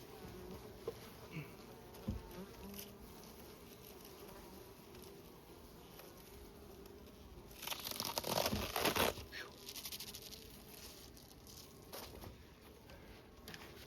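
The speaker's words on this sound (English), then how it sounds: "Remember, this is last year's wild swarm, and they sound pretty happy." Honeybees from a wild swarm hum softly inside their hive, a faint, steady buzz with a brief burst of crinkling, rustling handling noise midway.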